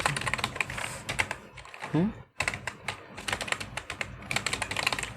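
Computer keyboard typing as JavaScript is entered in an HTML tutorial, rapid clustered keystrokes in bursts with a short pause near the middle, close and clear, with someone talking intermittently under and between the clicks.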